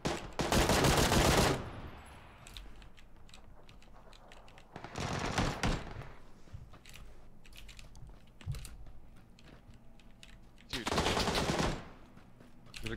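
Gunfire in the video game PUBG, three loud bursts of rapid automatic shots with scattered single reports and softer shots between them.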